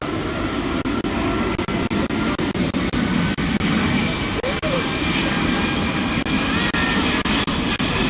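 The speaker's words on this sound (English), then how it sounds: "This majestic fly past by this huge airliner, and still relatively quiet." An Airbus A380 airliner makes a slow, low-power fly-past at the Farnborough airshow, a soft, sustained engine roar spread across the sky, steady and moderately loud, with repeated faint clicks in the background.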